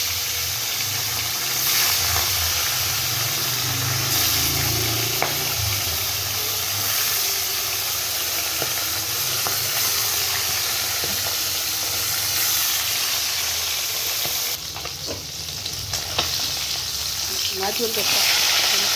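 Fish frying in hot oil in a pan on a gas stove at home: a steady, fairly loud sizzle and hiss runs throughout, with some background noise.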